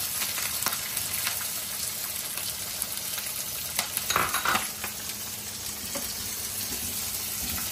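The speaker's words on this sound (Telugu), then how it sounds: "ఆనియన్స్, ఎండుమిరపకాయలు, జీలకర్ర మొత్తం అన్ని ఫ్రై అవ్వాలండి" Onions, dried red chillies, green chillies and cumin fry in oil for tomato pickle, a steady bright sizzle throughout with occasional spatters and soft stirring scrapes, close and moderately loud.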